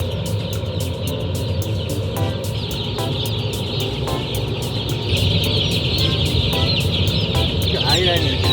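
Korean native chickens cluck steadily on a farm, with a dense layer of overlapping clucks and calls that grows a little louder toward the end.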